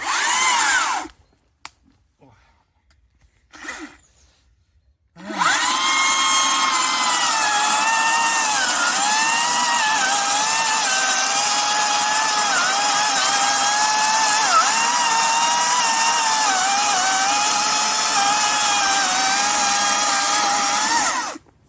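A Chinese-made petrol chainsaw cuts through wood, a loud sustained high-pitched buzz with wavering engine pitch as the chain bites, preceded by a few short idle bursts and pauses.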